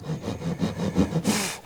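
A hand saw starts a dovetail cut in wood, making short rhythmic rasping strokes close by, followed by a brighter scratch near the end.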